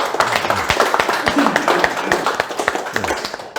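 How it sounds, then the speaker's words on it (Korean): Scattered clapping from a small audience, brief and uneven, with a voice talking over it. "박수를 한번 좀 격려 부탁드리고"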